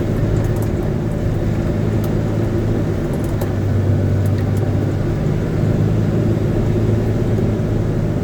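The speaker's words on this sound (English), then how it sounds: "Tires starting to spin." A car straining at its load limit with tires starting to spin, heard as a steady, loud low engine rumble that holds throughout with slight drifting swells.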